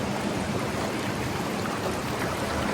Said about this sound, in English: Try to walk in this waterfall.